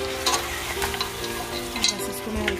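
Goat trotters (paya) sautéed with masala in a pot, a loud close sizzle with bursts of spatter and occasional stirring scrapes, no speech.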